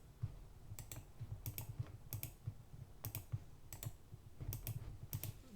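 Computer mouse clicks and keyboard taps at a desk during work in 3D printer slicer software, crisp close clicks in irregular pairs and bursts, quiet and with no talking.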